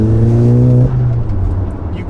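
An Audi S3 8P on a stage 2 tune with a loud exhaust holds a steady droning engine note before it drops off sharply, leaving a low rumble, up close.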